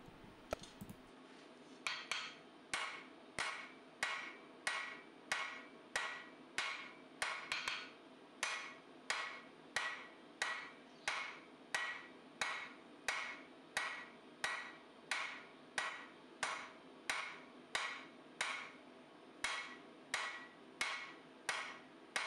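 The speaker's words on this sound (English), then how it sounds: "You can see I'm steadily using overlapping peening blows, working from thick to thin." Cross peen hammer blows ring out steadily on a knife blank laid on the flat of an anvil, over twenty sharp metallic strikes in an even, rapid rhythm, close and clear with no talking.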